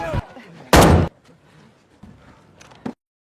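Gunfire in a film scene about robbers being shot down: a few sharp, loud blasts with the biggest near the start, then quieter rumbling and a final smaller crack, with no talking.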